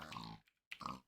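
Minecraft pig oinks in a video game, two short grunting bursts separated by a brief silence, moderately faint and alone with no talk.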